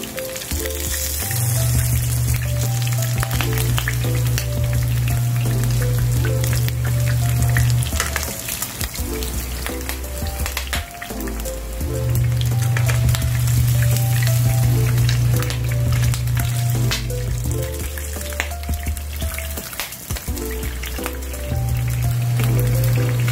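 Pork chops fry in a pan, giving a loud, dense sizzle with crackling pops that runs without a break. Steady low tonal tones come and go underneath, and no one speaks.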